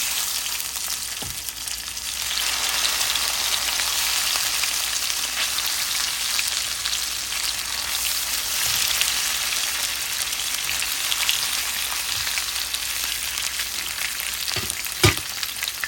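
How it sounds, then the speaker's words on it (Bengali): Hilsa fish sizzles steadily in hot oil, a dense continuous crackle with a few sharper pops and clinks, no voices. "এখন মাছটাকে ভেজে নিব, বেশি ভালো যাবে না, হালকা হালকা ভাজতে হবে"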